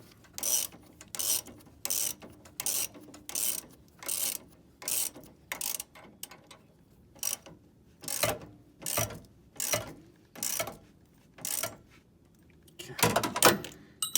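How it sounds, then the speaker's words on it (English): Repeated ratcheting clicks as sway bar link bolts on a lifted rear suspension are tightened with a wrench, close and crisp, coming in short bursts separated by brief pauses. "if you want to tighten this down with a torque wrench"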